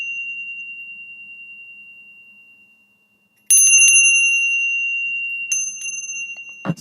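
Small hand bell rung during a prayer, a few bright clear rings that hang and slowly decay, with a soft ding near the end, close and otherwise quiet.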